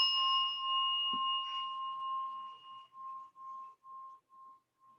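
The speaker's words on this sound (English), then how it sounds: "I'll ring the bell one final time to bring us back into this moment." A meditation bell is struck once to close a chair yoga session. Its clear, bright tone rings out alone in a quiet room, then slowly fades with a gentle wavering pulse.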